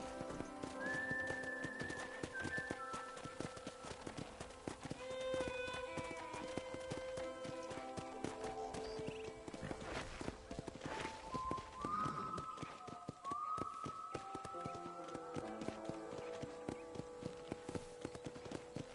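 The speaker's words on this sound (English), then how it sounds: "let's see if you can still ride a horse" Continuous rhythmic clip-clop of galloping hooves in the video game Red Dead Redemption, close and steady throughout, with a horse whinnying and faint whistling tones in the background.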